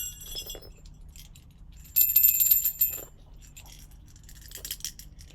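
Small bells from a bag of thrift-shop finds being shaken and rung, scattered tinkling jingles with a brighter, louder cluster of ringing in the middle, heard close up over a quiet background.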